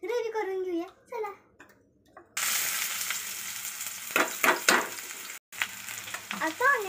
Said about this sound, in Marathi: आता ऑनियन आपण चांगला लाईट आणि ब्राऊन करून घेऊया.